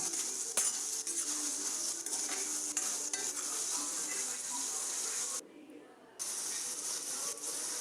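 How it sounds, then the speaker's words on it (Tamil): Spices fry with turmeric powder in a pan for a gooseberry pickle, giving a continuous soft sizzle broken by scraping stirs and light utensil taps, with a brief quiet gap near the end. "மஞ்சள் தூளை சேர்த்து கொஞ்சம் நேரம் ஃப்ரை பண்ணிக்கலாம்"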